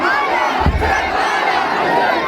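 A large gathering roars back in unison to religious slogans, a sustained wall of shouting voices at a crowded event, loud and continuous with a brief low thump.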